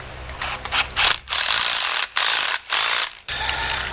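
Ratchet or cordless driver fastening a part onto a trailer frame, a few short bursts of grinding mechanical clicking separated by brief pauses, loud and close.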